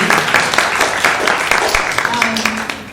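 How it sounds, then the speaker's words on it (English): Audience applause at a community forum for residents affected by a plumbing issue: steady dense clapping across the whole stretch, fairly loud and near, with voices mixed in. "let's give them a big round of applause"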